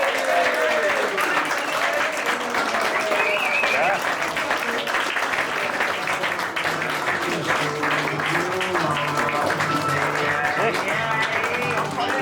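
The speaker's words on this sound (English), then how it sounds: "can we please all have a nice round of applause for the newly married Victor and Mrs." Wedding guests applaud the newly married couple, sustained, fairly dense clapping with cheers and chatter mixed in, continuing steadily for around twelve seconds.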